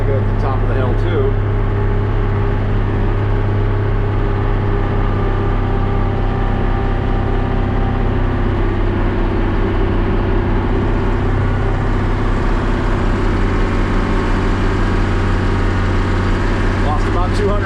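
A 1955 Oliver tractor engine working steadily while seeding wheat, a loud continuous droning rumble that holds throughout with slight shifts in pitch as it bogs down, close to the microphone.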